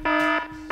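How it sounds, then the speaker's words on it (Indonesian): A buzzing electronic alarm tone like a fire alarm, loud and steady in short repeated pulses, with nothing else heard. "let's say for example, alarm"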